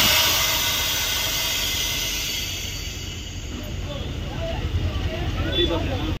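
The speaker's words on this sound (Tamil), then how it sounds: "வண்டி வருது பாருங்க" A Mani Motors Tumkur–Tirupati bus approaching on the Chittoor–Vellore road, a broad loud hiss of engine and road noise growing slightly closer, with a few faint sounds near the end.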